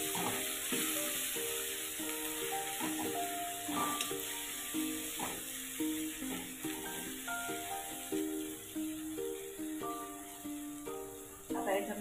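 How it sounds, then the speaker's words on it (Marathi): Onion sautéing in a pan with tomato going in, a constant hiss of frying under a voice talking throughout, with occasional stirring. "आता कांदा आपला परतून झाला की याच्यामध्ये टाकू आपण 1 टमाटर"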